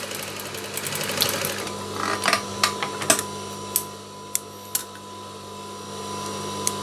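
Sewing machine stitching a three-layer cloth mask, a steady mechanical whir with sharp ticking clicks spaced through it, close and fairly loud with no talking.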